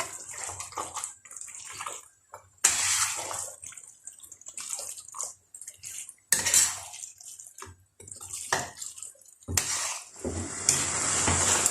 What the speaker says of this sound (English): Gently stir, stir, stir until everything is well mixed together.